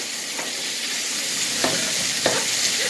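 Shrimp sizzle steadily in a frying pan, a loud, even hiss with a few soft scraping stirs as they are tossed, no voices.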